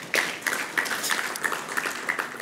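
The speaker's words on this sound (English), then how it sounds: "So please give them another round of" Audience clapping at a formal dinner event, a moderate crowd keeping up steady applause with a rhythmic group beat running through it.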